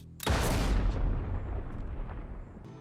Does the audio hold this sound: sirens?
no